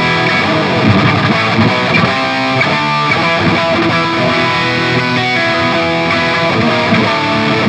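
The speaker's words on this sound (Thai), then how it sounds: "ข้ามมาฟังไปทางด้านเสียงแตกนะครับก็ไล่ปิกอัพทีละแก๊กเริ่มจากฮัมบักกิ้งตัวหลังก่อนครับ" A heavily distorted Dean Vendetta XM Tremolo electric guitar on its bridge humbucker pickup plays continuously with a thick, crunchy tone, loud and steady throughout with no talking.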